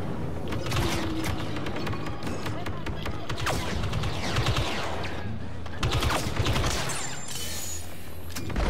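Dense, continuous blaster gunfire from the Star Wars Battlefront 2 video game, with rapid overlapping shots and bursts layered over busy battle noise throughout.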